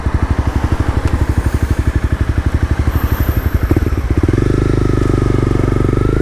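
A Honda CB300R 300cc motorcycle engine thumps in loud, close, rapid even pulses, then rises into a smoother, higher steady drone as the ride picks up.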